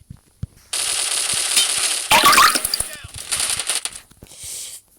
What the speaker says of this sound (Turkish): Ya taramalı varmış ki elimde ya.